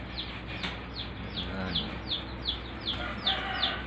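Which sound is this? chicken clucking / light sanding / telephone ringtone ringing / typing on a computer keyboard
chicken clucking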